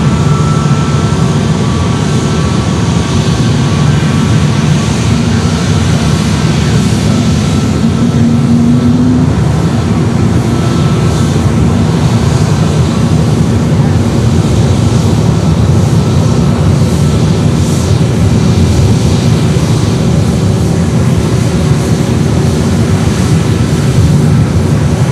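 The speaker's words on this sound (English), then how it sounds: "Just landing from JFK." Jet airliner arriving from JFK landing at Fort Lauderdale airport, a loud continuous broadband engine roar that holds steady for the whole stretch with no clear rise or fade, no talking.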